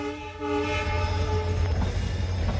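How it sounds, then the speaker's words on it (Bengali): A long train rolls past in the evening at Kumarghat, its horn blaring in sustained, harmonic tones over a steady rumble of wheels and cars, close and loud throughout. "অনেকটা লম্বা ট্রেন।"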